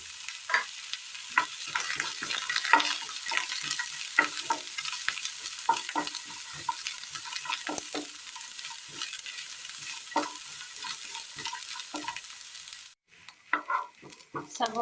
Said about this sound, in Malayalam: ഇനി ഇതിലേക്ക് സബോള ഇട്ട് കൊടുക്കാം.